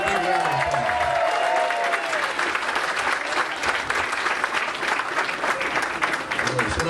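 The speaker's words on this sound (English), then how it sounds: "let's bring Merriweather Pleasure up with a big round of applause" A large audience applauds loudly and steadily at an evening charity event as an honoree is called to the stage, with voices and a few whoops rising over the dense clapping.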